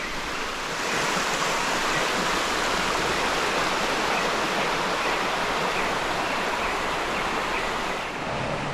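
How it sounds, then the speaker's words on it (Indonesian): A clear mountain river rushes steadily near a hiking trail in a forest park, a dense continuous broadband wash of flowing water filling the whole stretch at close range with no talk over it. "Nah, ini kondisinya sungai, suara alam"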